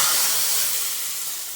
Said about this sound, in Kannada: ಇದನ್ನು ಈಗ ನಮ್ಮ ರಾಯರ ಮಠದ ಸಾರಿಗೆ ಒಗ್ಗರಣೆ